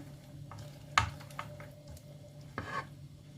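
A spoon works through hot béchamel sauce being mixed into pasta for an eggless baked macaroni tray, giving soft wet scraping and stirring with a couple of sharper clinks against the pot, close and fairly quiet with no talking.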